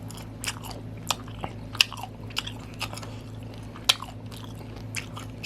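Crunchy cooked octopus being bitten and chewed up close, a run of sharp, irregular crunches and soft wet squishes over a low steady background hum.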